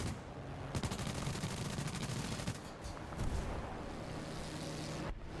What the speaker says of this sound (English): having all the firepower on the gun pods does do a lot for you